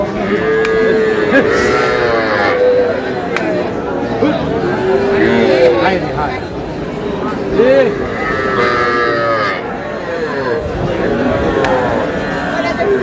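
Cattle, small bulls and heifers, moo repeatedly at a Bangladeshi farm. Several drawn-out calls overlap over about thirteen seconds, with steady crowd chatter and talking underneath.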